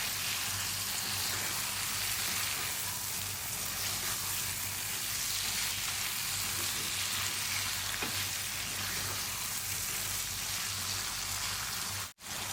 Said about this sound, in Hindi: यहाँ पे हम इसको डालने के बाद इसको अच्छे से फ्राई करेंगे चिकन के साथ